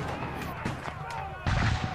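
Cannon fire in a staged battle scene from a short railroad drama, with a heavy, close boom bursting in near the end after voices talk over quieter rumbling.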